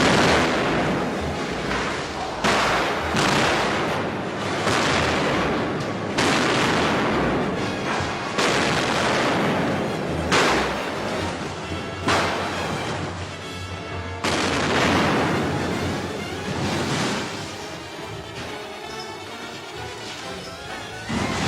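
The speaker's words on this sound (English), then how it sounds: "extra cameras are brought in to capture the final explosion" Film special effects explosions for Superman III destroying a supercomputer set erupt in repeated loud blasts and crashes, with booming bursts rolling one after another for about twenty seconds.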